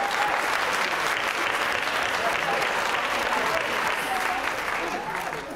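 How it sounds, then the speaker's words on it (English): A dense, continuous round of applause from the audience at a high school graduation celebration fills the whole stretch at an even, loud level before tapering slightly at the end. "let's back up and give our North Pitt students a big round of applause"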